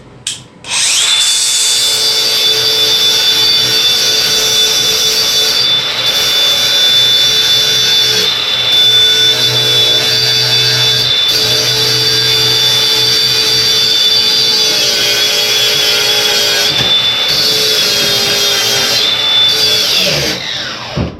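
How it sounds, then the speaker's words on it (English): A grinder strips paint off tractor metal with a loud, continuous high whine that holds for about twenty seconds, with a few brief dips before it winds down. "You want to grind all your paint away."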